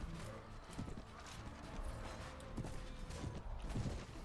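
Horse hooves clop in uneven bursts during a medieval battle in Mount and Blade: Warband, with a brief whinny among thuds and muffled clatter at moderate volume.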